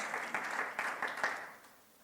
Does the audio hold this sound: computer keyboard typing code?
no